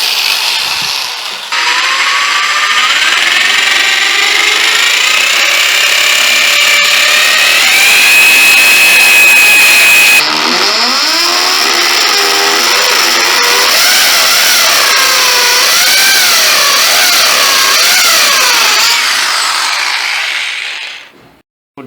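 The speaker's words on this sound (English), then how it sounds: "I'm going to use this drill machine in hammer action on and in the forward direction." A loud hammer drill in hammer mode whines steadily and continuously for about twenty seconds, its pitch shifting as the bit bites into a wall, with no talking.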